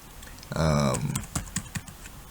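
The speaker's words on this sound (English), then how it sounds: "So for example, when I type here" Keys on a computer keyboard tapped in a short, uneven burst of clicks, close and moderately loud, entering a name into a search field after a brief voiced sound.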